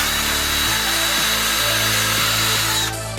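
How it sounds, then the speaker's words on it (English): A power drill bores into a wooden board while a sneeze guard is being built, a loud steady whirring motor with slight pitch shifts under load, running close and continuously before spinning down at the end. "We're gonna just drill that in."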